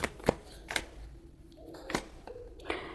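Tarot cards being shuffled and drawn, heard as a few soft, sharp card flicks and slaps spaced out over quiet room tone, close and fairly faint.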